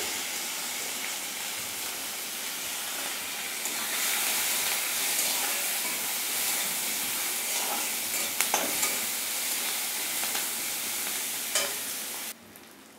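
Three large chopped onions fry in a pan with a loud, continuous sizzle that swells as they hit the oil, with occasional stirring clicks before it cuts off abruptly near the end.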